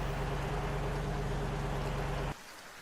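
Torrential rain in the video game Jurassic World Evolution makes a dense, steady roar of broadband hiss with low rumble that cuts off abruptly near the end, leaving a faint quiet tail.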